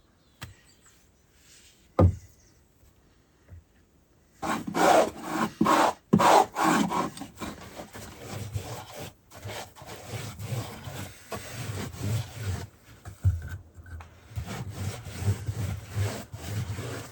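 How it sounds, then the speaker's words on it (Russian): Varnish goes onto treated wooden floor boards in an underground house in long brush or applicator strokes. After a quiet start with a few knocks, repeated rubbing swishes follow in an irregular rhythm, close by. "Начинаю лачить полы"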